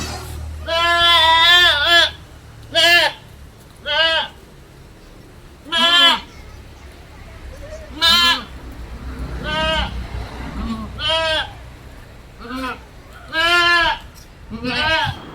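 Two mother goats and four kids bleat repeatedly, a series of loud, close calls of varying length with short gaps, while a person talks quietly in the background.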